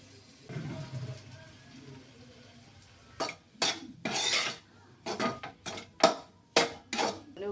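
A spoon scrapes and clinks against a pan while uggani upma with chili powder is stirred and mixed, in a run of sharp, close, repeated bursts after a stretch of quieter kitchen sound with a voice.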